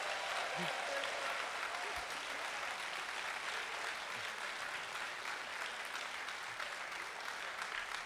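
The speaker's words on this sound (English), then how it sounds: "Let's give a round of applause for the Reverend Dr. Helen Carey" Sustained applause from a church congregation, steady and dense throughout, with occasional faint voices underneath.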